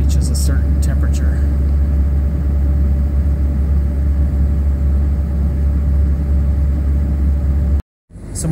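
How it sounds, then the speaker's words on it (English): Duramax 6.6L diesel truck engine idling, a steady deep rumble with a faint constant tone, close and loud, with brief clicks near the start and a sudden cut-out near the end. "my coolant temp just hit 140 and the truck went back into normal idle, back at about 750 RPM"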